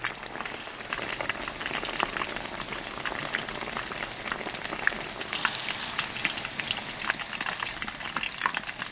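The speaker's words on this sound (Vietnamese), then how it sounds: "Dầu nóng thì mình cho đậu hũ vào chiên vàng 2 mặt." Steady sizzling and crackling of tofu deep-frying in hot oil, a close, continuous hiss with scattered pops, no voices.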